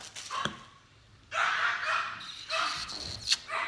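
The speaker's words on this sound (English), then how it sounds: "my dog will not shut up" A dog indoors barks and yips in several uneven bursts, with a sharp early yelp and then longer runs of barking, moderately close and fairly loud.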